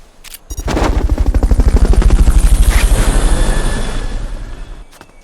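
Loud pulsing rotor beats of a Metal Gear Solid: Peace Walker helicopter rise quickly, hold steady for several seconds, then gradually die away.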